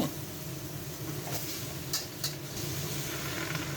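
Pork bones and crushed lemongrass dry-fry with curry paste in an oil-free pan, giving a constant close hiss and sizzle with a few light clinks from stirring.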